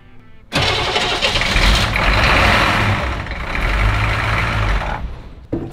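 Military Humvee engine starting after a radiator flush, with a sudden loud crank that catches and then settles into a rough, rumbling idle held for several seconds before cutting off, close by with nothing else heard over it.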